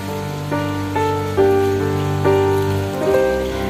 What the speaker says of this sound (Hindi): लिटरली बारिश इतनी ज़्यादा तेज है ना कि लोग बहुत ही ज़्यादा परेशान हो रखे हैं